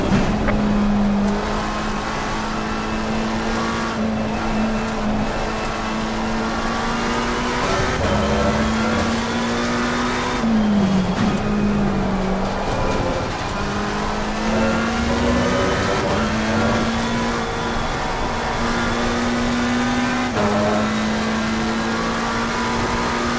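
A McLaren 720 race car engine in Assetto Corsa Competizione drones steadily at high revs, with pitch dropping and climbing again at a few gear changes, alone and close.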